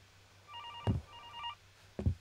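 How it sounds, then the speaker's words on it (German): In the horror game Infliction a telephone rings twice in short bursts, faint and somewhat distant, interrupted by a couple of dull thuds, with no talking. "Das Telefon klingelt."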